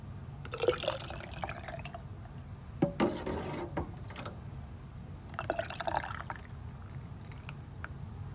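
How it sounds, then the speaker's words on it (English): Homemade basil, garlic and oregano pasta sauce is ladled into 1.5-pint glass jars, giving a few separate wet pours and spills with quiet pauses between them. "I'm gonna fill my jars and then I'll bring you back."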